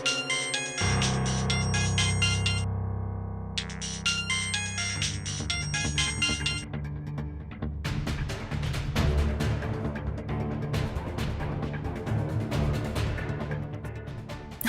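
A phone rings with an incoming call: a loud electronic melodic ringtone repeats its tune over a synthetic backing for several seconds, with no talking.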